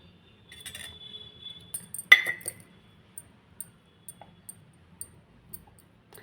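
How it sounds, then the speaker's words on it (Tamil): A spoon clinks and taps against a bowl while soaked poha is mixed with grated coconut: one sharp clink stands out, then lighter scattered taps follow over low scraping. "நல்லா கலந்துக்கலாம்."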